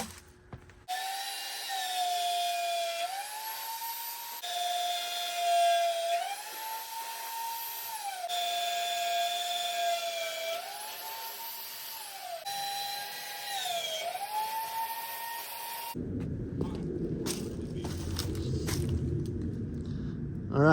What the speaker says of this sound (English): That's all it takes to drill 8 perfect holes in a thick piece of metal like this.